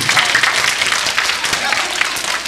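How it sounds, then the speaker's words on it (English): Audience clapping hands at a live magic show, a dense, steady wash of applause filling the whole stretch at close range with a murmur of voices mixed in. "If you like magic, clap your hands."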